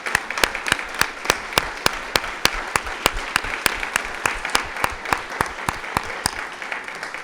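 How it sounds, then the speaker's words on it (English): At a students' awards ceremony, the audience claps in a steady, even rhythm, with sharp, regularly spaced claps standing out over a softer background of applause. "rousing round of applause for all of the students that participated in this year's Next Great Idea."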